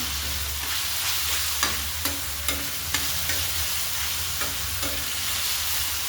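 Finely chopped tomato goes into a frying masala with a steady, fairly loud sizzle, while a spoon stirs and scrapes the pan in irregular strokes.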